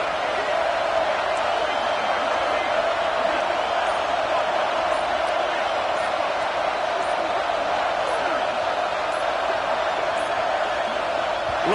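A college football stadium crowd roars for the defense on a big third down, a steady, dense wall of cheering noise that holds evenly throughout at a loud level.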